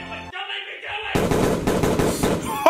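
Rapid bursts of gunfire from a comedic edited cartoon video, several sharp close shots in quick succession after a short stretch of other sound, loud and dominant.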